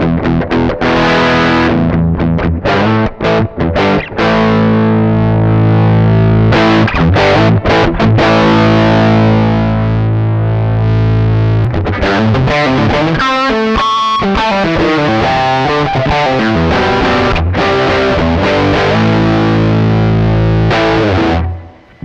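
Heavily distorted electric guitar runs through a Joyo amp-sim pedal with gain at halfway and the voice control raised, playing loud, continuous chords and riffs with a fuzzy, saturated tone, close and alone for over twenty seconds.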